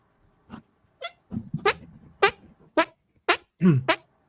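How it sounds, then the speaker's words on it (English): A string of about eight short, sputtering farting noises, spaced unevenly with brief silences between them, close and fairly loud. "want to see a talent that I have that I used to utilize in school all the time? Farting"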